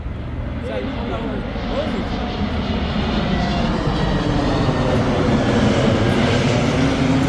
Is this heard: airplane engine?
yes